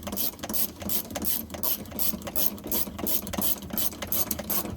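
A ratchet wrench loosens a 17mm seatbelt bolt inside a Volkswagen Beetle, a steady run of rapid clicking strokes in short regular bursts, close and fairly quiet with no talk.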